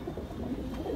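Soft cooing of a white Makoya pigeon, a low murmuring coo that continues steadily for a moment, close by with no other sounds.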